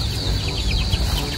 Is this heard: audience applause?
no